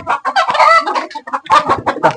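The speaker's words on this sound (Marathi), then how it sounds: "टर्की पिल्ले त्यांनी आणलेले शेड मध्ये बघू शकता" Turkey chicks in a farm shed, a close, busy run of chirping and clucking calls in quick bursts with short gaps, loud and without talk.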